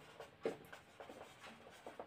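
A pen scratches across paper while a math problem is worked out, with soft irregular strokes and small taps, faint and close, with no voice.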